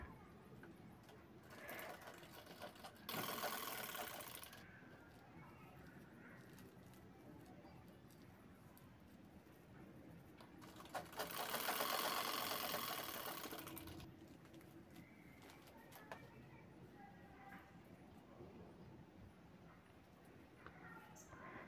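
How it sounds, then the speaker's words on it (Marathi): A sewing machine runs in short bursts as it top-stitches a strap onto a tote bag, close whirring stitching with quieter handling between, while a person talks softly. "त्याला आपण टॉप स्टिच घ्यायचं आहे."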